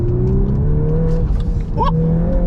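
A VW Golf R Mk8 engine holds a steady, loud drone while the car drifts in Nürburgring mode, with tyre and road noise under it and no talk.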